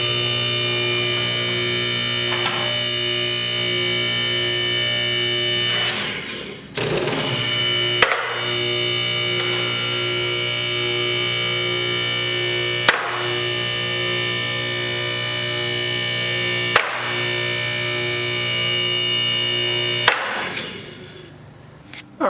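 An unloaded Katools car scissor lift, a Chinese-made unit, raises with a steady loud mechanical hum and drone, broken by a few sharp clunks and brief pauses as it climbs.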